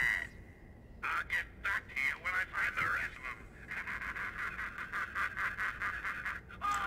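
A telephone rings repeatedly in Batman: Arkham Asylum, a warbling electronic trill in regular bursts that becomes more continuous, heard at moderate level over faint background ambience.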